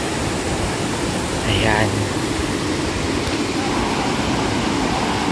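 River water flows at a mountain river resort in Baco, a steady rushing wash that runs throughout, with someone briefly speaking over it partway through.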